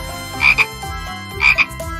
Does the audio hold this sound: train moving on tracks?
no